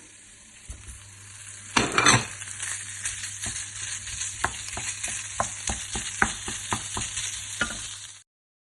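Minced kefta meat frying with cooked onion in a pan, a continuous sizzle with a burst of loud crackling as it goes in, followed by rhythmic scraping and stirring strokes close by until it stops abruptly.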